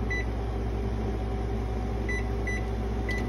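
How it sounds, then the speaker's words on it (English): Microwave oven running while heating lure-making material, a steady low hum with a constant fan drone and a few faint short beeps near the end, no talking. "just go ahead and throw it in my microwave right here"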